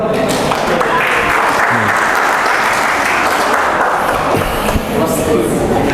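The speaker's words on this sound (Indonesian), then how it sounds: "Beri tepuk tangan." Loud, dense audience applause filling a meeting hall during a presentation, with a crowd clapping continuously for the full stretch and voices mixed into the clatter.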